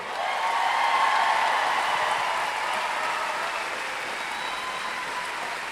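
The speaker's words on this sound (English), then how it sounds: "let's give them a big round of applause" Sustained applause from a rally crowd greeting elected officials, a dense, even roar of many hands clapping that holds steady and loud throughout, fading only slightly toward the end.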